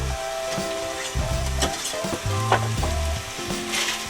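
Sauce with basil and oregano sizzles in a hot pan as it is stirred, with close, crackling frying and irregular scraping and knocking of the utensil.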